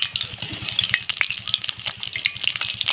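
Papad samosas fry in hot oil with a continuous bright sizzle and crackle close by, over a low rhythmic bubbling throughout, with no voices.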